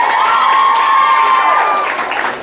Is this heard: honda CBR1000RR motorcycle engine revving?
no